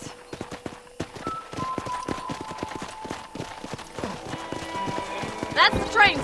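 Horse hooves clip-clop steadily in Red Dead Redemption, a brisk rhythmic trot of sharp close hoof strikes, joined by speaking voices and a brief whinny near the end.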